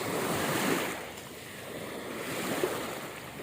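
Calm sea waves wash onto a beach during a family outing, a soft, continuous surf hiss with gentle swells and some wind noise on the microphone, no voices.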